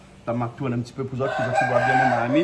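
A rooster crows loudly nearby in an outdoor kitchen where goose civet is being cooked in a pot, with someone talking over the crowing.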